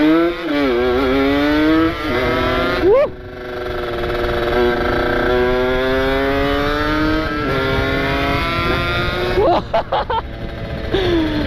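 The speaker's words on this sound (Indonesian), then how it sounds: "Enak juga nih knalpot ABRT nih, udah ganti lagi nih full system sekarang ya." A Kawasaki Ninja two-stroke motorcycle with an ABRT full-system exhaust revs hard and close, its loud, raspy pitch climbing and dropping across several sharp throttle blips and sustained high revs.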